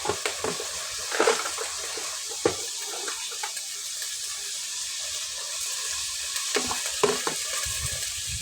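Tomatoes frying in oil over high flame for tomato chutney, a hissing sizzle broken by several clattering stirs and knocks of a utensil against the pan, nearby and without speech.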